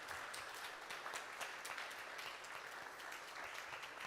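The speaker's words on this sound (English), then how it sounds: "I think there were claps" Steady applause from an audience at a live music performance with bass and keyboard, a dense continuous wash of clapping lasting throughout without talk.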